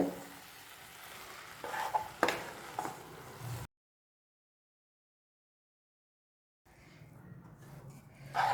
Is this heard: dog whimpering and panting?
no